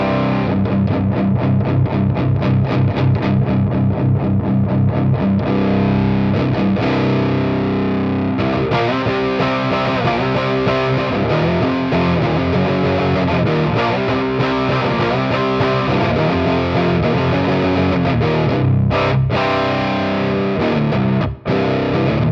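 An electric guitar played through a Tai Ji Drive overdrive pedal, a budget Zendrive clone, gives a fuzzy, smooth distorted tone, loud and sustained with strummed chords and ringing notes and no talking.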